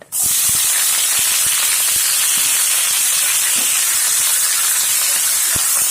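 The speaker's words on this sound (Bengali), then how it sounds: "এবার দিয়ে দিব পেঁয়াজ কুচানো" Chopped onion goes into hot oil with cumin seeds for a chicken gizzard curry, setting off a loud, steady, broadband sizzle that hisses without pause for the whole stretch, with a few faint spoon knocks.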